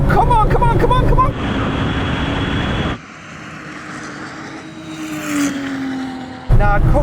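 Porsche 911 Turbo accelerating hard in a half-mile drag race, a loud engine roar with a rising tone and gear changes, broken by quieter stretches and a burst of noise near the end.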